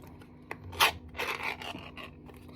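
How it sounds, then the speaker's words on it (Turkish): A metal tin of brie cheese is pried open at close range, giving a short, quiet series of scraping, rasping and clicking noises. "Şimdi tenekemizi açıyoruz."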